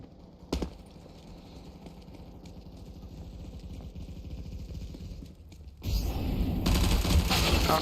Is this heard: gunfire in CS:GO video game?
yes